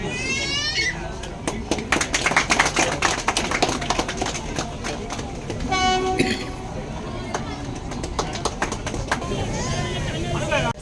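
A Nilgiri mountain railway train rolls past with rhythmic clanking of wagons and several sharp horn toots, close and fairly loud, while people's voices chatter around it.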